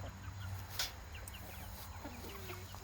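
Chickens on a farm cluck faintly in the distance under steady outdoor background noise, with one short louder call partway through.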